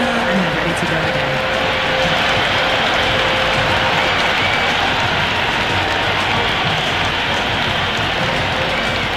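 Stadium crowd in the video game Cricket 26 during an IPL match, a dense, continuous roar of noise with no breaks, steady and loud, with a commentator talking over it.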